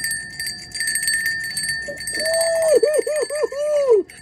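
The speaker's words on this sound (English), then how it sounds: "That's a bell. That's a bell. Can you hear the difference in that?" A genuine metal bell rung during a test, giving several clear ringing strikes in quick succession that sustain and overlap over the last two seconds, close and fairly loud, following an earlier duller tone.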